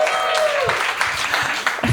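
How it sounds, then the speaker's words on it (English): Live theatre audience at a play reading gives a short round of applause, a dense wash of clapping with a voice talking over it. "There is a round of applause."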